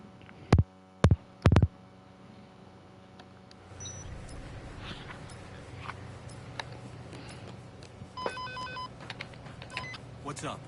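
A phone is dialed in the video game Dead Rising 2: three loud, separate tone bursts, then a low hum with faint electronic beeps and pulses and a voice talking underneath.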